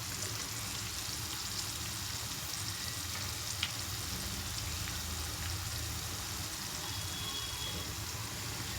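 Okra and cucumber curry stirred in a hot pan: a steady, close sizzle and fry with soft scraping of the spoon, constant throughout with one small sharp tap partway.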